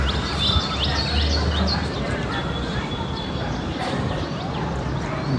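Pigeons kept by a hobbyist chirp and call in quick bursts over a busy, noisy loft background. Someone talks throughout.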